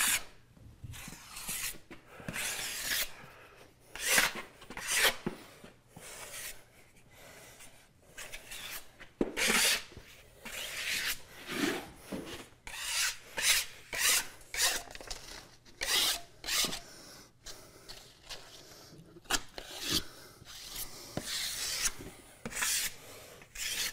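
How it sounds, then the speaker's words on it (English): A drywall taping knife scrapes and rubs joint compound over paper tape on exposed basement drywall, making repeated rasping strokes in an irregular rhythm, close and fairly loud, with no talking. "And I'm gonna bed the tape."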